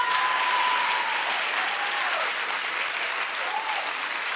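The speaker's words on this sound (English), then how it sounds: "Clap if you want to help." Steady, dense applause from a studio talk-show audience, loud and continuous throughout with a few faint whoops riding on top.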